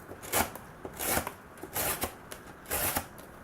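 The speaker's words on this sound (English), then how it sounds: "When you cut thick cardboard," A knife slicing through thick cardboard in repeated strokes, each pass a short rasping, scraping burst at close range with brief pauses between cuts, no talking.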